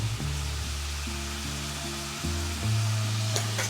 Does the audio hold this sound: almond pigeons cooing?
no